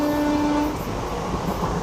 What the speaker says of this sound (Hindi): उस्मानपुर रेलवे स्टेशन पे क्रॉसिंग बलारशाह मुंबई नंदीग्राम एक्सप्रेस।